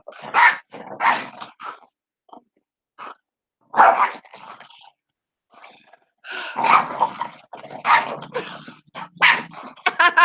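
A dog barks in loud, close, repeated bursts mixed with growling yips, in uneven volleys separated by short pauses.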